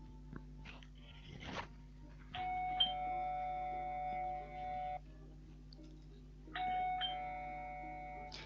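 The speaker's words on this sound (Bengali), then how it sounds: "বেশ কিছুক্ষণ ধরে কলিং বেল বাজতে থাকলো।" A doorbell rings outside a house twice, each time with a sustained electronic chime that holds steady for a couple of seconds, with quiet gaps between.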